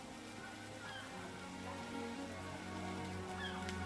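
Steady, soft rain falls continuously on a surface, a faint even patter with no other distinct sounds.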